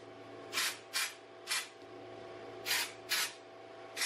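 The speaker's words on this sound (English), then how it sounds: "I'm gonna take it out and spray some of this in my hair." Batiste dry shampoo sprayed into hair in short hissing bursts, six quick sprays spread out over a few seconds, close and fairly loud against a quiet room.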